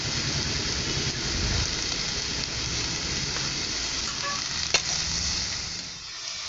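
Cut potatoes and fig vegetables with salt, turmeric and chilli powder sizzling steadily in a pan while being stirred, a continuous close frying hiss throughout with one brief clink near the end.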